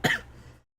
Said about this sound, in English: I swallowed and I coughed